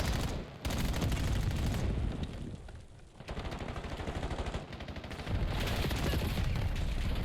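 A grenade blast and rapid gunfire trade in a competitive tactical shooter match at a major esports event, with dense, continuous shooting and explosions filling the whole stretch and only brief dips between bursts.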